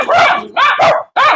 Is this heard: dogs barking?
yes